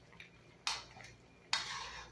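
A utensil scrapes and clinks twice inside a pot of lechon paksiw being stirred, each stroke a short bright scrape that fades, fairly quiet with a faint hum behind.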